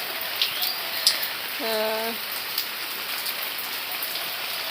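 Rain falling outdoors on a morning walk, a soft continuous patter of drops with a brief tonal call briefly rising over the hiss.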